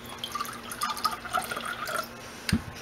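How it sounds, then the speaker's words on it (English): Water kefir is poured a little from a container, giving light trickling and dripping with small splashes over a few seconds and a sharper splash near the end, close and fairly quiet. "So I'm gonna open the container and just pour a little bit."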